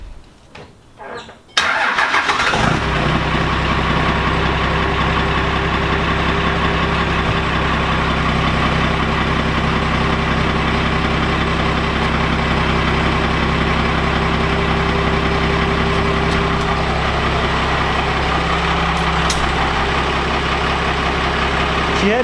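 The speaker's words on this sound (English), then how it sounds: "Cold starts are absolutely no fun with a muffler style exhaust" A truck with a muffler-style exhaust cold-starts after a brief crank, then settles into a loud, steady idle that drones on unbroken for about twenty seconds, close to the listener.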